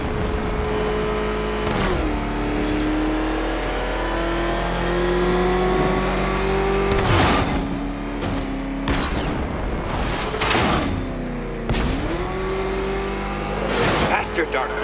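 Batmobile engine in the Batman Arkham Knight video game, revving and accelerating in repeated surges with rising pitch sweeps, loud and close, with a voice talking over it.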